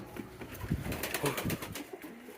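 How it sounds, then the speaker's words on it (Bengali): A female pigeon coos close by in a soft, low, throaty burble lasting a couple of seconds, with faint background noise and no talk. "এই যে এটা হচ্ছে মাদি কবুতর"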